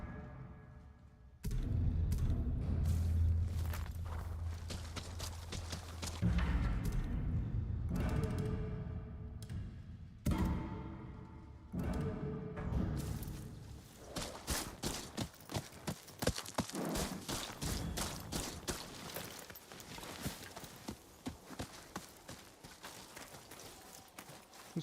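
Horse hooves clip-clop in the Ghost of Yotei video game, a steady run of close, sharp impacts that begins after a short lead-in and carries on through most of the stretch alongside other game sounds.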